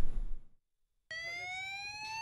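Electronic alarm going off on a boat before a night patrol with sailors, a loud steady multi-tone wail starting abruptly after a brief burst of noise and a short silence.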